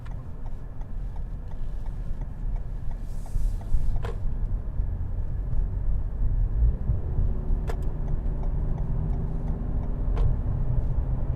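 A car cruises along Interstate 95 out of Miami, Florida, with a steady, close road and engine rumble, faint ticking from inside, and a few brief clicks over the constant drone.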